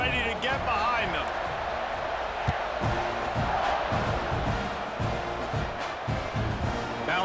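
Stadium crowd noise from the EA Sports College Football 26 video game, a steady loud roar of cheering fans before a kickoff, with scattered thumps and sharp hits through it and a commentator's voice over the top.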